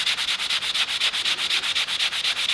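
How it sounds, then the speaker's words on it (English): A Boba Fett helmet being sanded by hand with an abrasive pad, a fast steady rhythm of rasping back-and-forth strokes, close and loud with no talk. "I've just been sanding it"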